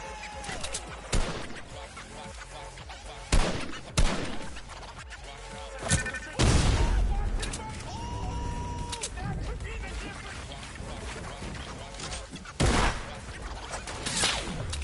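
Video game gunfire: sharp, loud shots and bursts go off at irregular intervals against a busy mix of game noise, with a voice talking over much of it.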